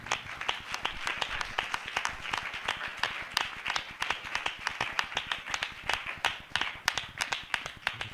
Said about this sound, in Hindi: हम जोरदार तालियों से उनका स्वागत करें